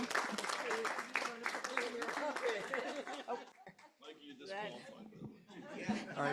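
The audience at a Miami Springs city council meeting claps for a few seconds amid laughter and chatter, then the clapping fades under continued talking.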